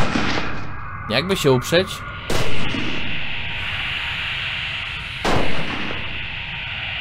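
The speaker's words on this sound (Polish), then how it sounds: "Z bunkra strzelają." Gunfire from a bunker in the video game Cuisine Royale: several sharp shots, a quick burst of three or four then single reports, heard at a distance with players talking over them.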